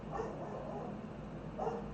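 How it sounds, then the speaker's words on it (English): An old dog gives two faint, short barks about a second and a half apart, distant and quiet in a room during a coin auction. "That old dog. He didn't bark all day."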